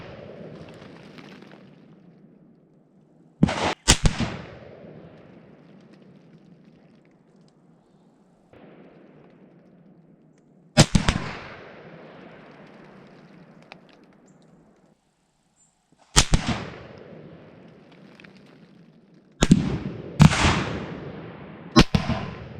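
A Savage Axis .308 rifle fires sharp, loud outdoor shots, first singly and then a closely spaced cluster near the end, each crack followed by a decaying echo over a quiet background.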